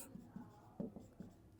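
Pen writing on paper during a math lesson, soft scratchy strokes in short bursts with a few tapping accents, close and faint.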